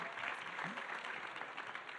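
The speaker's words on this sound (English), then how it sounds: "Well-deserved applause there." Applause from a fundraiser audience after a young singer's song, a steady, fairly faint wash of clapping lasting about two seconds with no voices over it.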